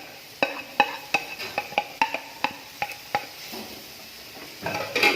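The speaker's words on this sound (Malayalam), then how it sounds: "ഇനി എല്ലാം കൂടി നന്നായിട്ടൊന്ന് മിക്സ് ചെയ്ത്" A spoon stirs grated carrot into a spiced mixture in a pan, with about a dozen evenly spaced metallic taps and scrapes against the pan, close and fairly quiet, then a soft sizzle toward the end.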